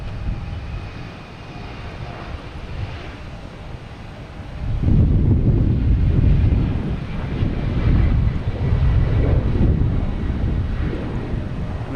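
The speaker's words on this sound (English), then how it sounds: "We got a JetBlue. Sorry, I just saw that out of the corner of my eye. E190 heading to Cleveland." A JetBlue Embraer E190 bound for Cleveland at Boston Logan rumbles with jet engine noise that surges sharply louder partway through into a close, heavy roar, with wind buffeting the microphone.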